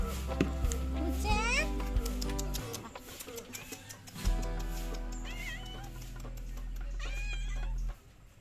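A cat meows repeatedly in rising, wavering cries at close range, several distinct calls spread across the stretch, with a voice and other talk around them.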